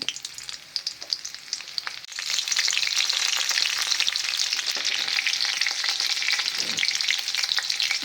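Mustard seeds, cumin and green garlic cloves sizzle and crackle in hot oil for a tomato chutney. The frying is steady and close, growing louder and denser after the first couple of seconds, with no talking.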